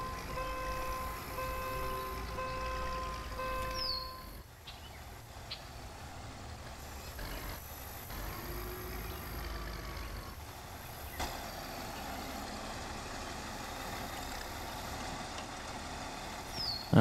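A tractor engine in Farm Expert 2017 runs as a low steady drone with a tonal whine while reversing, fairly quiet, with brief clunks and a short hiss partway through.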